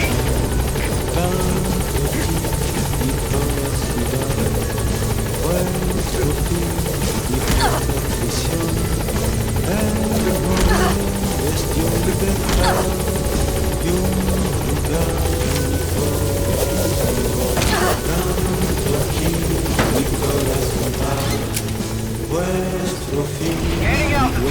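A helicopter climbs in Metal Gear Solid V: The Phantom Pain, its steady loud rotor drone and buzzing engine running throughout, overlaid with game music and radio chatter.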